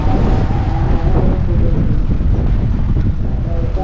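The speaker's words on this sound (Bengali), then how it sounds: "বৃষ্টি নামবে প্রচণ্ড বাতাস" Strong wind sweeps outdoors through a village under dark clouds just before rain, a loud, continuous roaring rush that buffets close and steady throughout with no voices.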